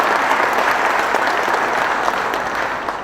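A crowd applauds a speech with a steady wash of clapping that stays loud and even for a few seconds before easing slightly at the end.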